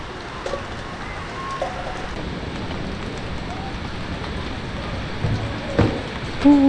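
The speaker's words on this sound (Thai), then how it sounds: "ฝนตกฝนตก" Heavy rain falls steadily over a rural floodplain fishing spot, a dense continuous patter with a few louder knocks and splashes toward the end, no talking.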